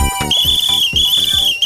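A shrill, steady whistle blows in a TV serial scene, holding one piercing note for over a second over a pulsing rhythmic background.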